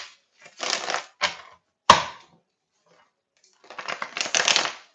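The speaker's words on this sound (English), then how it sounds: "Let me get all the cards out and I'll show you." Tarot cards being taken out and shuffled, a few brisk riffling bursts with a sharp tap between them, close and clear in a quiet room with no talk.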